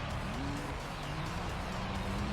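Sport-exhaust engine of the LMP Dragon race car in Gran Turismo 3, a steady droning hum with a rising then settling pitch, loud and continuous with no talk.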